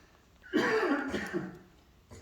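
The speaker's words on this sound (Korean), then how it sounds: "아이고 죄송합니다. 기침이 나네요." A lone cough, or a short cough and clearing of the throat, from a preacher in the middle of a sermon, close and fairly loud before it trails off.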